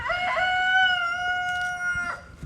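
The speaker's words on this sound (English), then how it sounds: "Rooster." A rooster crows once, loud and close, a long drawn-out call with a clear tonal ring, followed by a short rustle.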